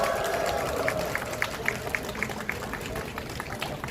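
A crowd of several hundred rally participants claps at an outdoor candlelight rally, a dense wash of applause with some sharper individual claps standing out, a voice faintly audible at the start.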